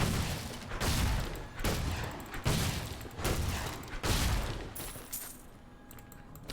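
Repeated crunching impacts of barrels being smashed in Diablo 3, about six heavy bursts in quick succession amid combat noise, loud and close.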